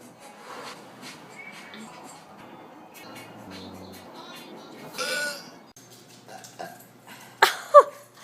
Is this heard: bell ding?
no